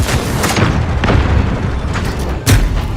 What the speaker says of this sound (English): Throwing grenade. Flashbang out.